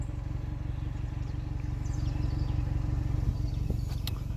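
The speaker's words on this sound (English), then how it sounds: "that's in our sport mode, which we know from years ago with the baffling and some of the things that they've upgraded on these exhaust systems" A 2019 BMW 330i M Sport idles with its exhaust in sport mode, giving a steady, deep pulsing rumble that stays even throughout, with faint higher clatter over it.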